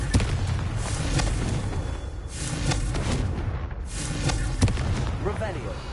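A Confringo fire spell blast in the video game Hogwarts Legacy: dense, rumbling booms and crackling bursts run throughout, with sharper impacts near the start and end, under a constant loud wash of game noise and a voice speaking.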